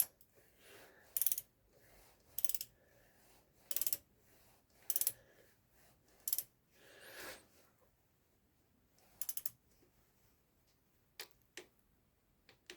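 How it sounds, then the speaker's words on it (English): Timing belt tensioner nut on a Euro 6 TDI engine being tightened to 20 newton meters with a torque wrench, a series of short sharp ratcheting clicks in bursts with quiet gaps between. "I'm gonna tighten it up to 20 Newton meters."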